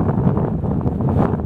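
Strong wind roars across a dusty mountain trail near Dingboche in the Everest region at about 4,300 metres, a continuous loud buffeting rush against the microphone with no talk.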